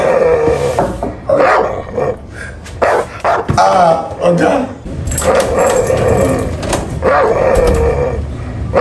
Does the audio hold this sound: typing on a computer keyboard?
no